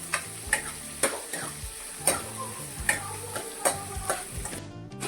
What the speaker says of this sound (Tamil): அதனால் ஒரு பச்சை மிளகா போடுறேன்